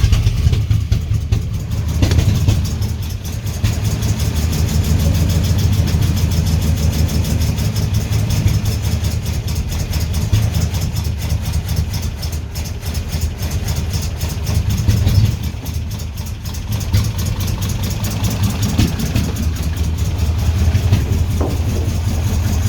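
A vintage 1945 Jaguar Mk4 with a 2.5-litre engine, started after 30 years off the road, idles loud and steady with a deep, continuous rumble and no talking over it.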